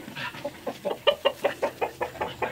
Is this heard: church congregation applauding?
no